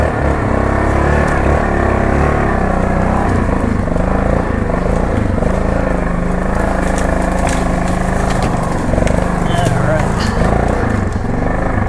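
A 2002 Yamaha Grizzly 660 ATV engine drones steadily in low range at about 18 mph through sticks and brush, loud and continuous throughout with no pauses.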